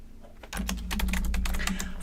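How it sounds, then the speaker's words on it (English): Fingers type quickly on a computer keyboard, producing a steady, close run of crisp key clicks for about a second and a half, with no talking. "let me get my keyboard over here"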